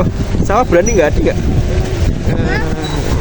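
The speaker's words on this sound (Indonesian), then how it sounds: "Itu suara angin. Anginnya emang kenceng banget di sana." Strong wind buffets the microphone beside Telaga Sarangan lake, a steady rumbling roar that runs throughout while a person talks over it.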